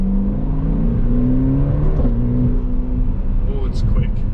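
A 2020 Ferrari Portofino, sharing the 488's engine, accelerates hard with a loud climbing engine note that drops at an upshift midway and then rises again, heard from inside the car.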